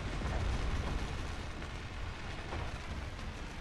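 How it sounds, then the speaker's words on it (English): Turret fire in the Space Engineers video game during a Mars survival session, a steady stream of rapid bursts and booms rolling on throughout with no talk over it. "You can hear the turret shooting away."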